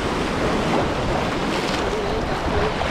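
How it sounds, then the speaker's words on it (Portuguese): Ocean waves wash in at Pontal do Atalaia beach in Arraial do Cabo, a broad, steady roar of surf and water up close, with wind buffeting the microphone throughout. "É uma ondulação, né? Porque aí, pô, bate na gente,"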